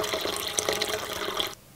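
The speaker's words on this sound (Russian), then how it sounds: "Добавляю сюда кипяченую воду, обязательно кипяченую" Boiled water poured into a pot of broth for soup, a short bright splashing pour lasting under two seconds that stops abruptly.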